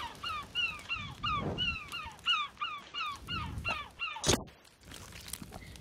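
A bird circling overhead in the survival game The Forest gives a series of about a dozen evenly spaced, honking caws, interrupted by a single sharp thump near the end.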